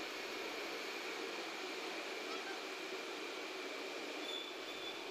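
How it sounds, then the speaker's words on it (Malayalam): A train pulls into a station platform, a steady broadband rumble and hiss of wheels and carriages that holds at an even level throughout, with no talk. "അപ്പോൾ നമ്മളുടെ ട്രെയിൻ ഇതാ വന്നുകൊണ്ടിരിക്കുന്നുണ്ട്."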